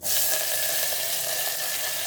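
Continuous close sizzle of a spice tempering with salt and asafoetida frying in hot oil, a steady bright hiss with no talking.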